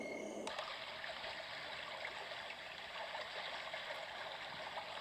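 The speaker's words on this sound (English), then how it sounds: "Brook." Babbling brook setting on a bedside sound machine, a quiet continuous trickle and gurgle of water that starts after a brief click and holds steady.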